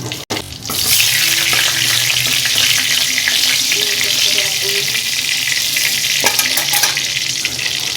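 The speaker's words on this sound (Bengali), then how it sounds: "চিংড়ি মাছ ভাজার তেলের মধ্যেই দিয়ে দিচ্ছি আরেকটু তেল। এবার এর মধ্যে দিয়ে দিচ্ছি একটা শুকনো লঙ্কা ফোড়ন" Dried red chilli tempering sizzles loudly in leftover prawn-frying oil topped up with fresh oil, a dense, steady crackle that fills the whole stretch after a brief pause at the start, with faint stirring clinks.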